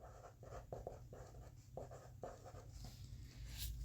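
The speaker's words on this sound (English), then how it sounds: "I'll write it as well." Pen or marker scratching out Spanish words on a writing surface, a series of short rhythmic strokes with brief gaps, close and quiet with no speech.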